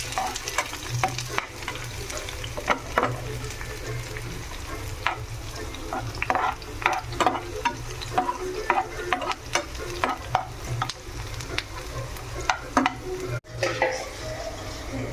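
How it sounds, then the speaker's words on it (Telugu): Sliced onions and green chillies frying in a pan for liver fry, a continuous close sizzle broken by frequent light scraping and tapping as they are stirred, with no speech. "ఉల్లిపాయలు, పచ్చిమిర్చి వేసుకున్నాము. ఇవి వేగాలి."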